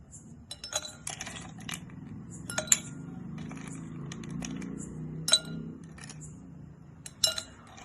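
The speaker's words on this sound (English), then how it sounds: "First, fill the glass nicely with ice." Ice cubes clink and tumble into a glass in scattered bright bursts, a few louder knocks among lighter rattles over a soft background hum, close and fairly quiet.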